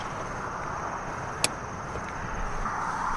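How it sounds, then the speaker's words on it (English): A soft-closing door on a 2018 BMW M550i draws shut with a single brief, crisp click midway, over a steady low background hiss. "You have soft closing doors."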